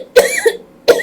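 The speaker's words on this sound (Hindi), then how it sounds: "ये खांसी जो है ये भी सर्दियों में लाजमी" A woman coughs close to the microphone during winter, giving two sharp, loud coughs about three-quarters of a second apart.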